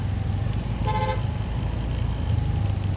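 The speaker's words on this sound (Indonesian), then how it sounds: "Di sini juga macet ya." Car horn toots from traffic stuck in a heavy jam at a university graduation gate in Makassar, one short multi-tone honk rising over a steady loud rumble of idling engines and road noise.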